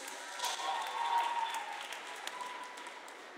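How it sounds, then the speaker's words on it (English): Church congregation clapping during a sermon, a steady wash of applause from many hands at moderate distance, with voices and a few cheers mixed into the crowd noise. "Somebody clap like we're going to be stewards."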